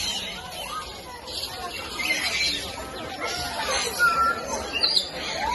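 Macaws and other birds call at Gazipur Safari Park, a jumble of chirps and squawks at middle distance under nearby people talking and ambient chatter.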